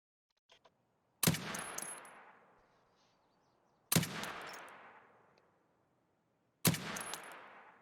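Three loud, well-spaced long-range rifle shots ring out in a shooter video game, each a sharp crack followed by a long, fading echoing tail, with a few faint clicks before the first shot.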